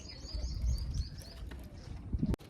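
Pigeons settled on a rooftop at evening, giving soft cooing calls against low ambient rumble, with a sharp brief knock near the end.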